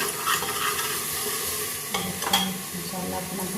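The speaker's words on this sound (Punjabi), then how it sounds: "ਮਿਲਦੇ ਆਪਾਂ ਤੇ ਆਪਣਾ ਮਸਾਲਾ ਜੀ ਭੁੱਜ ਗਿਆ" Masala spice paste frying and being stirred in a pan, a steady close sizzle with scraping strokes of a spoon across the metal.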